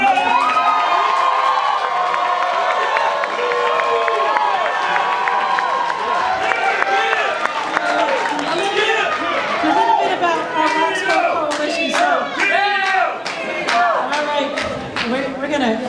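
A lively crowd cheers, shouts and chatters continuously at a Boston mayoral debate, with children's shrill shouts and scattered whoops rising over the din and bursts of clapping toward the end.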